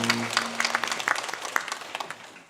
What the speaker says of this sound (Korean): 함께 영광의 박수 올리겠습니다.